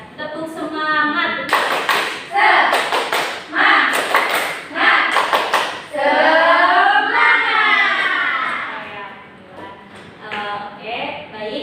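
Classroom pupils in a science lesson perform a rhythmic clapping chant together: sharp clap bursts in patterned groups, then children's voices chanting loudly together, ending in more group vocalizing.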